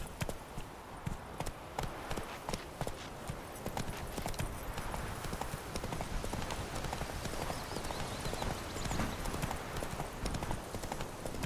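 The horse Roach in the video game The Witcher 3 clip-clops steadily on hooves, a continuous close rhythm of hoofbeats with ambient game noise.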